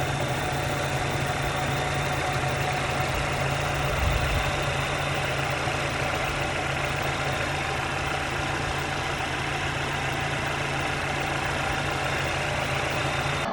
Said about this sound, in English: not really a great exhaust note